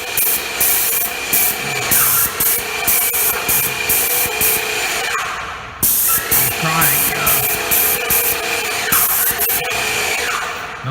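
Spray painting overhead inside a flower shop being renovated: a loud, steady hissing spray runs nearly continuously, with a brief break midway and light rubbing noises.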